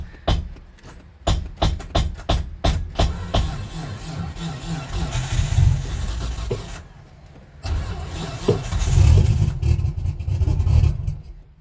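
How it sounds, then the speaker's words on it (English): An R33 Nissan Skyline engine cranking in rapid, even pulses, then catching and running with rough revving that rises and falls, close and loud, during work on a Walbro 255 fuel pump install. "I'm gonna rev it."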